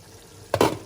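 A spoon stirring a thick spinach sauce stew in a pot. One quick, close scraping swish breaks an otherwise quiet moment.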